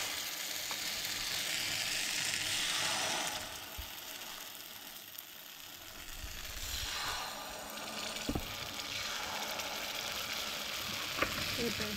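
Rice flour batter sizzles and crackles steadily in an oiled appe pan, a continuous close frying hiss with a few small clicks and taps of utensils, no talk.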